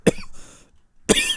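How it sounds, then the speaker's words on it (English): A person coughing close up: two sharp, loud coughs about a second apart, with a faint hiss of breath between them. "I also apologize for the coughing."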